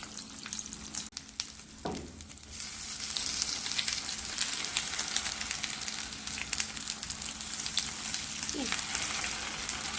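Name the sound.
French toast sizzling in the pan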